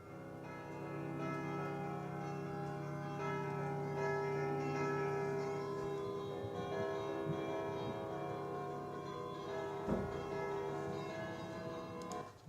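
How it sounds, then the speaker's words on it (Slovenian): Five church bells ring together in a steady, dense peal that lasts the whole stretch, their overlapping tones blending so each bell is hard to pick out, with one louder clang near the end. "Če damo bolj kompliciran primer, recimo s 5 zvonovi"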